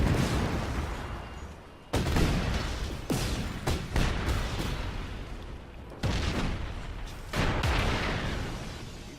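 A car blows up in a video game amid a barrage of heavy booms and crackling blasts, several sharp loud bursts arriving in uneven succession over a continuous rumbling roar.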